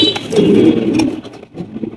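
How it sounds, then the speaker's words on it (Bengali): A pair of Blue Barless Beauty pigeons cooing close by, a short soft throaty coo that rises and fades, then a quieter second murmur. "এখানে রয়েছে একজোড়া ব্লু বার্লেস বিউটি কবুতর"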